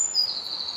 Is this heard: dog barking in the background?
no